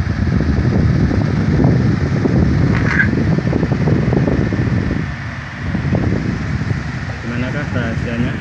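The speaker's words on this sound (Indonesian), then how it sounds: "dan kita bangunkan kipas menyala lagi." An electric fan hums and whooshes steadily up close after being switched back on, a broad continuous airy drone with a person speaking over it.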